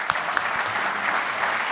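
Audience applause at a BMC Exchange conference in New York, a steady dense patter of clapping from a large crowd, moderately loud and even throughout.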